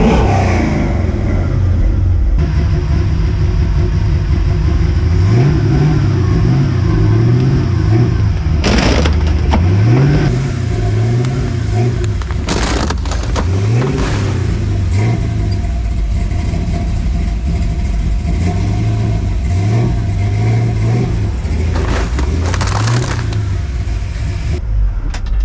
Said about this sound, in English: All right, first gear, low range, 4-wheel drive. Let's see what happens.